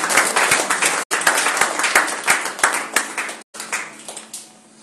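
A church congregation applauds during a Friday worship service, dense clapping from many hands that breaks off twice briefly and then fades.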